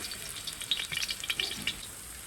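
Garlic and ginger sizzle steadily in a wok for a street-style hotpot, close and fairly soft, with light stirring scrapes rising through the frying and no speech.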